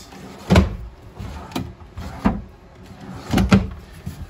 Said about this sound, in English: Power converter down there, so press it top and center and it pops on open.